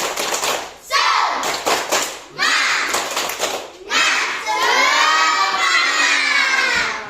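A third-grade primary school class of children performs the tepuk semangat clapping chant, loud young voices shouting the rhythmic chant in bursts with rapid claps between, ending in a long excited group shout.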